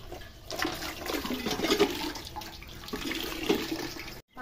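Banana leaves rubbed and washed by hand in water: a continuous close sloshing and splashing wash with soft rubbing texture, steady throughout and cut off abruptly at the end, with no talk.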